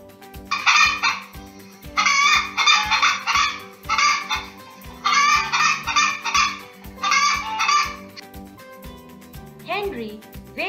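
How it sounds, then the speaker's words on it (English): Bursts of loud squawking, honking bird calls repeat in clusters over a steady rhythmic background beat, with a short rising call near the end. "When he peeps into the hole, a hen comes out."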